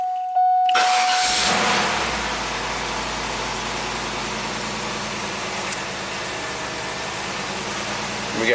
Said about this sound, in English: we got a fan, high-speed fan, normal fan, low-speed fan.